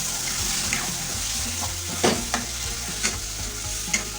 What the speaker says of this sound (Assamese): এতিয়া মছলাখিনিৰ লগত ভালদৰে আলুখিনি মিলাই দি আমি অলপ ঢাকন দি তাক ভাজি ল'ম।